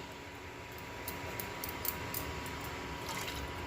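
Water poured into a pot of saag being cooked in a home kitchen, a soft running trickle with faint splashes and clinks, quiet and close.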